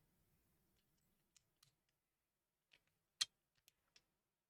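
Mechanical keyboard switches on a custom Encore build give a few sparse, faint clicks at uneven intervals, one sharper than the rest, in an otherwise quiet room.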